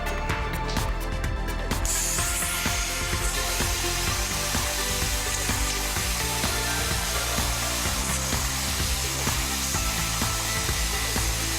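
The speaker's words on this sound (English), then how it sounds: "The plasma cutting process, in combination with templates, is extremely efficient, particularly when producing slotted holes." Plasma cutter slicing slotted holes in a car body panel along a template, a steady loud hiss and roar with a continuous buzzing drone running throughout, close and unbroken.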